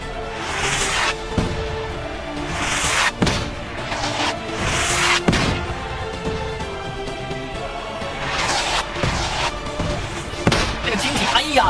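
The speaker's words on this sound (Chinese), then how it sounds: "这个时候防守方的炮也正在轰击他们，他们是要和迫击炮配合打退蓝方的进攻" Mortar shells burst during a PUBG Mobile game battle, several heavy booms and cracks at irregular intervals over a continuous din of gunfire and noise, with voices faintly mixed in.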